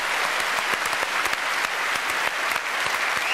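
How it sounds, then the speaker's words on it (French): Studio audience applauding on a French television talk show, a loud, close, continuous round of clapping with sharp individual claps standing out over the crowd. "Ça mérite, mesdames, messieurs, quelques applaudissements"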